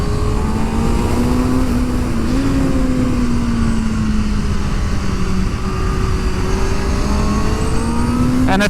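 A 2024 Kawasaki Ninja ZX-6R with a 636cc inline-four engine runs on a technical race track, giving a loud, steady engine drone whose pitch rises and falls as it revs, with no talking.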